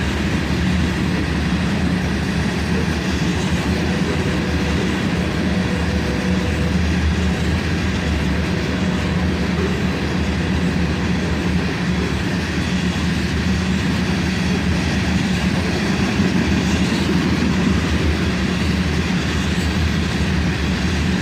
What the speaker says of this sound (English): And the hopper train headed south.